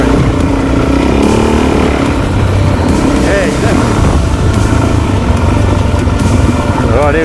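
Suzuki DRZ400 motorcycle engine riding onto soft beach sand, a loud continuous drone with shifting revs and wind buffeting, a rider talking over it.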